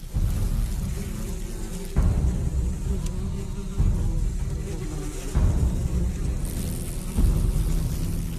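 Giant Asian hornets and yellowjackets swarm in flight at a hive, making a close, continuous buzzing drone that swells in regular pulses every couple of seconds.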